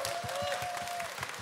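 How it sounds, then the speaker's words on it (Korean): A crowd at a talk concert claps in soft, continuous applause, heard fairly faint and distant with a faint steady tone running through it. "큰 박수 부탁드릴게요."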